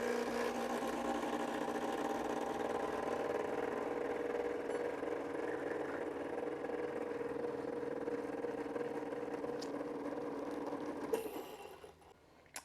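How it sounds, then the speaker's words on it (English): An SSP Brew burr coffee grinder grinds for espresso with a steady, close whirring motor hum that runs evenly and then winds down and stops near the end. "You can indeed grind for espresso with SSP Brew."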